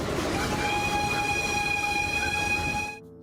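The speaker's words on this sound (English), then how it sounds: "Today, a few restored steam locomotives still chug along the old track" A restored steam locomotive running on an old railway track in Eritrea, a loud rolling rumble of wheels with a sustained horn-like whistle tone over it, cutting off abruptly at the end.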